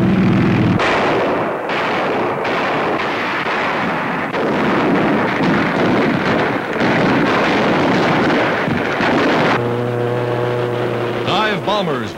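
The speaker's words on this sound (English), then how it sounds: "Rake the Japanese with machine guns." Machine gun fire in a WWII Pacific battle against Japanese positions, with tanks brought up against a gun nest in an abandoned ship, heard as loud, sustained rattling bursts with heavy booms under dense battle noise.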